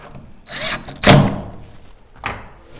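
A screw is driven in to secure a Gaulhofer window handle, giving a brief whirring burst, a sharp thunk at the peak, and a fainter follow-up sound, close and alone without talk.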